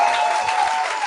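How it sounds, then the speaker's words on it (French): Brief burst of live studio audience applause on a podcast, a dense steady clapping texture with a faint tone running underneath. "Merci la gang, vous êtes fin de m'applaudir."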